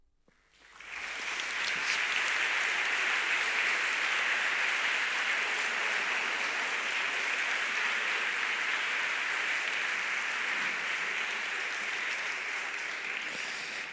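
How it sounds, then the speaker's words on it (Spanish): An audience at an Ocultura'24 event applauds, a dense, sustained wash of clapping that swells within the first second and holds steadily for the rest of the stretch, fading slightly at the very end. "Gracias también por ese aplauso"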